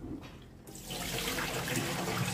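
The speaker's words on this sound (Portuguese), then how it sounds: "Vou até tirar mais uma água," Water drains from a basin of pigeons that have been washed with vinegar. After a short quiet start it becomes a steady, close rush of splashing water. No voices.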